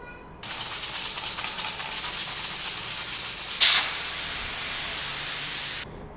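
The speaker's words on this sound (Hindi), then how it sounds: "प्रेशर कुकर को बंद कर लेंगे" A pressure cooker with its weight on top, cooking goat trotters, lets out a loud, steady steam hiss that surges into a stronger burst midway, then cuts off.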